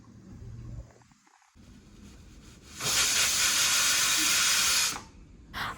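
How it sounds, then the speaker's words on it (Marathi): A pressure cooker cooking leftover chicken rassa biryani lets out a loud, steady steam whistle for about two seconds mid-clip, after quieter kitchen noise. "झाकण लावून 3 शिट्ट्यांमध्ये बिर्याणी करून घेऊयात."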